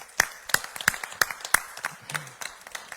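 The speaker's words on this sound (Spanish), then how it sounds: "Démosle un aplauso al Señor" Small church congregation clapping for the Lord during a Spanish-language sermon, a series of sharp, fairly regular claps about three per second, moderately close and somewhat sparse.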